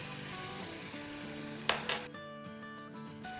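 Chopped garlic sizzles quietly in about four tablespoons of hot oil in a preheated pan for chicken pasta, a soft frying hiss under a background of sustained music. A brief clink comes midway.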